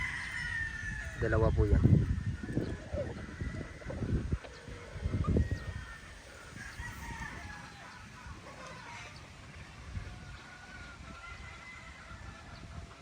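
Boston Black gamefowl rooster crowing near a game farm in Batangas, a few strained calls early on with other fowl noise around, under someone speaking close to the microphone.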